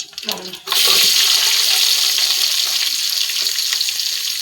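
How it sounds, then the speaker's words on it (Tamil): Onions and green chillies hit hot oil in a pan for mutton curry, a brief clatter followed by a loud, steady, close sizzle that continues without pause. "வெங்காயம் சேர்த்துக்கலாம் பச்சை மிளகாவும் சேர்த்துக்கலாம் சேர்த்து நல்லா பொன்னிறமாக வர்ற வரையும் வதக்கணும்"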